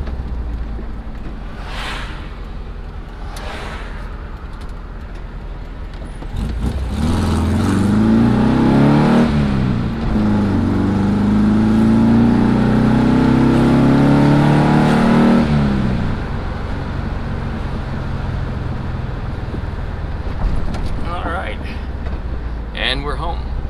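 A Volkswagen car pulls away and accelerates, engine note swelling and rising through the gears with audible pitch sweeps during shifts, loud and close, with someone talking over parts of it.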